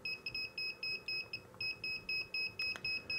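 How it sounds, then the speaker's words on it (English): Rapid high electronic low-voltage warning beeps from a battery pack near 11.9 volts repeat in a steady pulsing pattern, briefly cutting out midway, fairly quiet against a faint background hiss. "if I run this up, you'll hear it start beeping"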